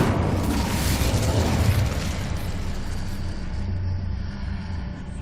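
Hogwarts Legacy's Incendio fire spell bursts with a loud, rumbling whoosh of flame that swells early, then settles into a sustained roaring crackle before trailing off.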